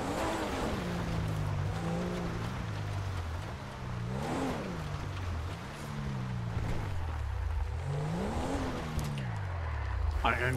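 Car engine in GTA 5 played on a FiveM server, droning steadily and rising and falling in pitch as it revs and slows throughout, with a voice talking over it.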